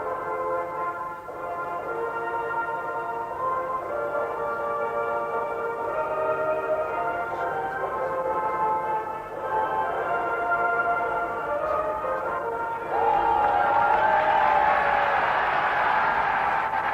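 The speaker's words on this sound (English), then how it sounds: "And that's what the crowd wanted to hear, the French national anthem." La Marseillaise, the French national anthem, sung by a large stadium crowd before a 1990 France v Australia rugby test, a sustained choral mass of voices that grows louder and brighter toward the end.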